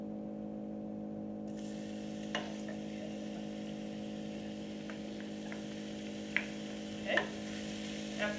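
Garlic and ginger paste hits a hot pan with cumin seeds, starting as a soft sizzle that rises in, quiet and steady over a constant low hum, with a few light clicks of a utensil scattered through.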